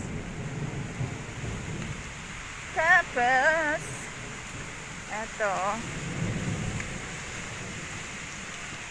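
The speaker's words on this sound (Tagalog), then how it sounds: "Ang lakas talaga ng ulan." Heavy rain falling steadily on a rainy day in Hong Kong near a guard house entrance, a constant loud hiss with low rumbles of thunder, while someone talks briefly in the middle.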